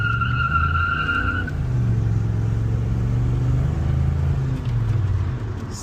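A Holden HSV VN Commodore SV LE V8 launches from a standstill with its rear tyres spinning. A loud, steady engine roar rises and holds at close range, and a high tyre squeal is heard through the first second and a half.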